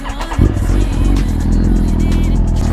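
Video game motorcycle engine, loud and close, revving up after a brief start and holding a steady throbbing drone throughout.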